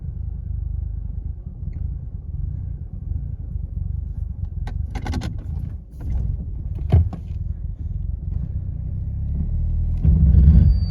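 A Mercedes 220CE W124 with faulty throttle body and coil harness wiring idles unevenly, a close low rumble with irregular lumps and a brief surge near the end.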